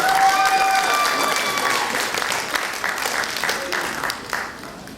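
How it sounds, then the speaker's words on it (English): An audience at a beauty pageant applauds steadily for the contestants, with dense clapping and a few cheers, fading slightly toward the end. "Let's give a big round of applause for all our beautiful contestants."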